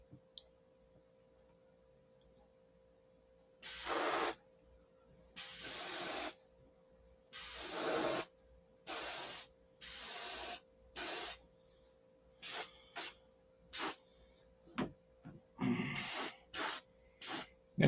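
Spray paint hisses onto wheel skirts in a series of short bursts, several longer passes followed by quicker spurts, close and moderately loud against a quiet background.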